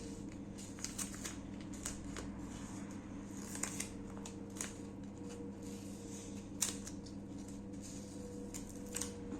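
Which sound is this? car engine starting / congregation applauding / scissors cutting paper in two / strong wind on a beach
scissors cutting paper in two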